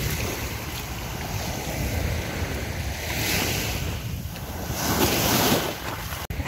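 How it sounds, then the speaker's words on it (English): Ocean waves wash ashore along the Fujairah corniche at high tide, a steady close roar of surf swelling and receding, with wind rumbling against the microphone and no talk. "The waves"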